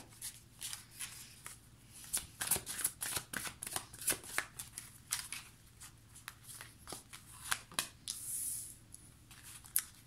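Tarot or oracle cards being shuffled by hand in a quiet room, with rapid, close riffling and slapping bursts that come in irregular flurries with brief pauses.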